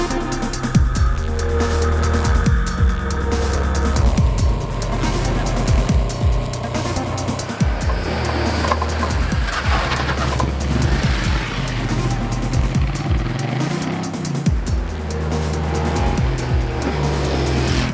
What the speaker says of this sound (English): The V-twin engine, you know, it's a big, powerful, lumpy engine.